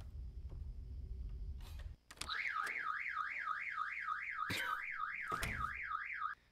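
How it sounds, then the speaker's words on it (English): A car alarm wails loud and close in a steady, fast rising-and-falling warble, broken by a couple of sharp clicks and thumps and preceded by a low outdoor rumble. "Our car alarm was going off."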